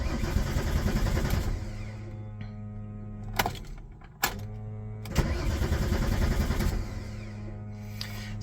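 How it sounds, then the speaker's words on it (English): A Porsche 993's starter cranks the engine in two long, loud, steady churning bursts with a short pause between them, without the engine firing, heard up close. "just going to give it a couple of cranks, see what happens"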